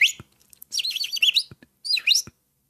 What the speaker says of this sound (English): Used to always hear birds in the background.